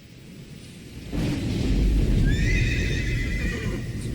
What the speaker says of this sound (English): Some horses in the storm.